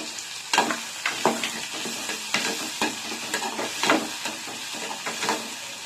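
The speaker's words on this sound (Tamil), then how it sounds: "எண்ணெய் சூடு எரிச்சு இப்போ நம்ம வெங்காயம் சேர்த்துக்கலாம். இந்த கருவேப்பிலையும் சேர்த்துடுறேன்." Onions and curry leaves frying in hot oil, with close sizzling and a run of spoon stirs and scrapes against the pan, and no voices.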